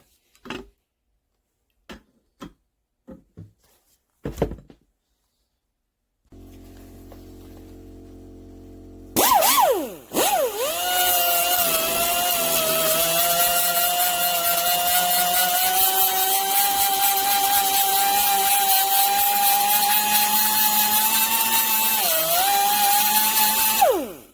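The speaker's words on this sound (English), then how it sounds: "I may try this cutoff wheel. I may carefully try to use that to cut in a couple grooves." A die grinder with a cutoff wheel cuts grooves into a stuck crankshaft bearing on a dirt bike crank. A few light taps come first, then a loud, steady high whine holds close and unbroken for about fifteen seconds.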